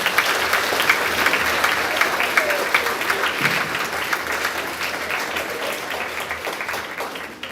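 Sustained applause from an audience at a grades 4–6 school awards assembly, steady dense clapping filling the room for several seconds and tapering slightly toward the end.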